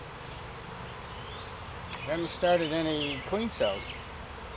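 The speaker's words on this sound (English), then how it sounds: "hive is just stuffed with bees" Honeybees hum steadily inside a hive packed with bees, a close, even buzz running beneath a man's speech.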